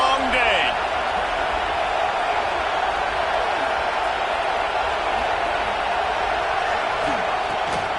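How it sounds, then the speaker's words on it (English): A stadium crowd at a Florida Gators football game roars loudly and steadily throughout, a dense wall of cheering close and constant with no pause. "This crowd, full throat, splitting the eardrums and letting them know it's going to be a long day."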